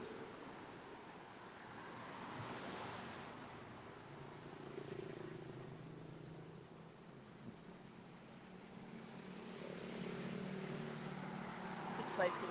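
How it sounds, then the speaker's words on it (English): Steady street traffic rumbles past, a continuous wash of engines and tire noise that swells and eases while a voice speaks over it. "Noisy traffic."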